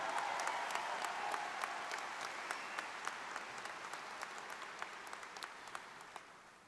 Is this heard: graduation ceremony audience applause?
yes